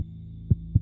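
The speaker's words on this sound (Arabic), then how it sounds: "قلبي بدأ يدق وبدأت أحس بخوف بيتملكني وبيزيد كل شوية." Two deep, soft heartbeat thumps over a low steady hum, evenly spaced and close, with no talking.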